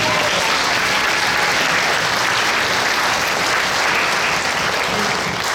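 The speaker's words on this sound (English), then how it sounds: "well another round of applause" Sustained applause from a large audience at a middle school grand finale concert, dense and steady throughout with no pauses.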